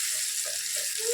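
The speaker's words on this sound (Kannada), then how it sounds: "ಈಗ ಎಲ್ಲ ಎಣ್ಣೆಲೇ ಫ್ರೈ ಆಗಬೇಕಲ್ಲ, ಹಂಗಾಗಿ ಒಂಚೂರು ಎಣ್ಣೆ ಹಾಕ್ಕೊಂಡಿದ್ದೀನಿ" Mushrooms cooking in a small amount of oil in a pan give a soft, steady sizzle, faint and continuous over a brief moment, with a few light clinks.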